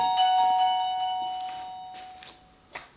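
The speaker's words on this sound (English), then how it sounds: "when somebody rings the doorbell" A doorbell chime rings out with a clear sustained tone that slowly decays, followed by a few faint knocks and clicks near the end.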